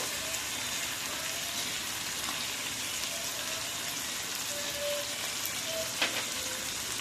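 Chicken pieces sizzle steadily in a pan of well-cooked spice paste for a Bengali chicken and potato curry, a continuous moderate frying hiss with faint stirring, no voices.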